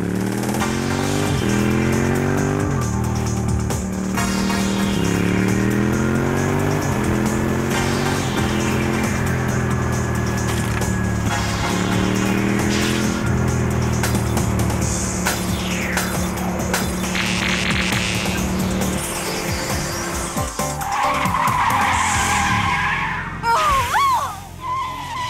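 An anime scene with a motorcycle and car skidding: loud, drawn-out engine revving and tire screeches rise and fall over a continuous roar, ending in a burst of sharper noises.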